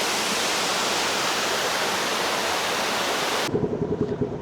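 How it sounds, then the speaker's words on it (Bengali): A waterfall roars loud and close as a dense, unbroken rush, then it drops abruptly to a quieter, lower churning of water for the final second. "জাস্ট ঝর্ণাটা দেখেন আপনারা এক কথায় অসাধারণ মন জুড়ে যাবে এরকম একটা ঝর্ণা"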